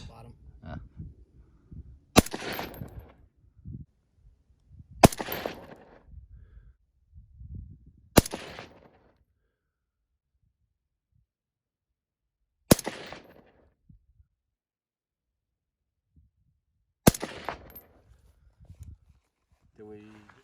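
Five sharp, well-spaced shots from a Cobalt Kinetics 6ARC rifle with a 16-inch barrel and OSS suppressor crack out at an outdoor range, each followed by a short decay, with people talking between the early shots.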